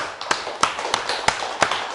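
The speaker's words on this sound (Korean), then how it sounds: "하나님께 영광의 박수." A congregation at a Korean Full Gospel church service claps together in a steady rhythmic beat. Six sharp, loud, evenly spaced claps are heard alone, about three each second.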